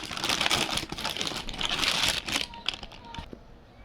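A parcel of hijabs is unpacked, its plastic packaging crinkling densely and loudly up close, then easing into sparser rustles and crackles toward the end.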